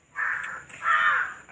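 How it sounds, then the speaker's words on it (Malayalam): Two harsh crow caws, close and fairly loud, each drawn out for about half a second with a short gap between them. "അതിൻ്റെ ഇടയ്ക്ക് കാക്കയുടെ സൗണ്ട് കേട്ടപ്പോൾ ശ്രദ്ധിക്കണം"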